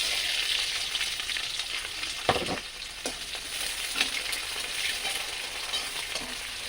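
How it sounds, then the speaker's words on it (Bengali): Onions sizzle in a hot pan of oil with whole cumin seeds, a dense, steady frying hiss close to the ear, with a few soft stirring scrapes and taps and no voices. "পেঁয়াজটা ভালো করে ভেজে নিতে হবে"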